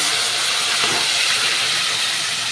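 Spices dropped into hot oil in a pan over a low gas flame for a vegetarian paneer dish, giving a loud, steady, close sizzling hiss throughout with no voices.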